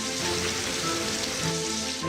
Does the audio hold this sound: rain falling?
yes